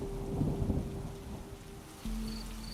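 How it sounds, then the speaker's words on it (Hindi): Rain patters on a tin roof during a nighttime storm in a cartoon, with a rumble of thunder early on, then the steady rain continues under a faint tonal hum. "बारिश की बूंदें टीन की छत पर टप टप गिर रही थीं।"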